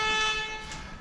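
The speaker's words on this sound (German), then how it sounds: "Ja, Hupe geht jetzt" A car horn gives one steady, fairly loud honk that fades slightly toward the end.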